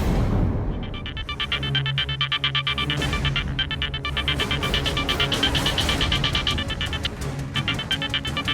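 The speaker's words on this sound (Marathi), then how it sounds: "प्लीज फोन उचला, प्लीज फोन उचला राजवर्धन सर" A phone ringing with a steady electronic ringtone that repeats in a continuous loud melodic pattern, close and alone with no voices.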